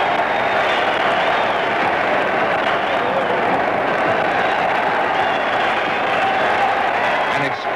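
Steady roar of an immense boxing crowd at the Dempsey-Tunney heavyweight fight, loud and continuous throughout with no break, the murmur and shouting blended into one dense wall of sound.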